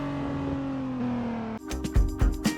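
Race car engine at speed crossing the finish line, a loud sustained drone that suddenly turns into a choppy, pulsing roar with sharp bursts, close and alone without talk.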